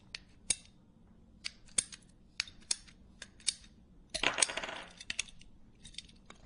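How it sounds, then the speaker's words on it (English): A hand tool cuts PVC pipe into parts, giving crisp, isolated snips and clicks spaced about a second apart, with one longer crunching cut midway, close and fairly quiet. "Mark them on the PVC and then take a tool and cut each of those parts."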